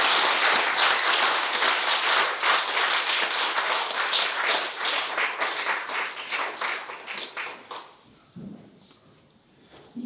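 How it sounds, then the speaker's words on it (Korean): Church congregation applauding a worship praise team after a Sunday service song, a dense sustained clapping that fills the room, then thins into scattered claps and fades near the end. "다시 한번 감사 박수드립니다."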